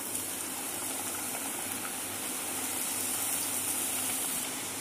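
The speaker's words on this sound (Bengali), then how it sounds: "তেলে ভেজে নিচ্ছি সুন্দর করে আমি।" Puri frying in hot oil, a steady broadband sizzle and bubbling hiss that runs unbroken and fairly loud throughout, with no voices.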